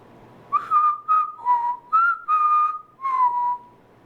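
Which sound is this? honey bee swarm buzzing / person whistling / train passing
person whistling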